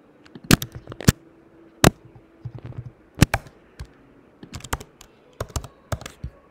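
Code being typed on a computer keyboard: close, crisp key clicks in irregular bursts and short runs, with a few louder keystrokes and brief pauses, and no talking.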